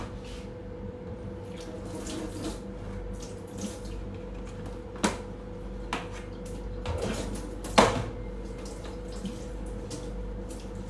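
Tap water runs steadily into a sink while a dirty item from a potted-plant hobby session is scrubbed and rinsed, with scattered knocks and splashes, a louder clatter near the end, and no talk.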